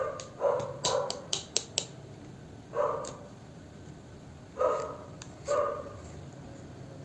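A dog barks in scattered bursts, a few sharp yips close together, then single barks spaced out, moderately near with quiet background.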